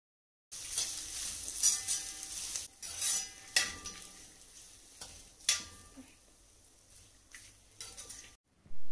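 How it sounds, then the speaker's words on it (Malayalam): Ginger and green chillies sauté in a pan with a close, busy sizzle. Metal spoon scrapes and clinks against the pan come in several bursts, and silent gaps fall between the stirring strokes. "ഇഞ്ചിൻ്റെ കളറ് മാറുന്ന വരെ ഇതൊന്ന് നല്ലതുപോലെ വഴറ്റിയെടുക്കണം"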